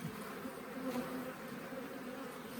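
An aggressive honeybee colony buzzes at an open hive frame, a steady, dense, close-up drone of many wings humming together.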